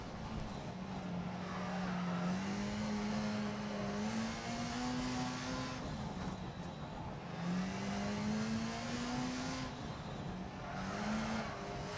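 A rally car's engine in the video game Dirt Rally drives through a stage in H-pattern mode, droning and revving in repeated rising climbs between gear changes, with tire and gravel noise underneath, steady and moderately loud.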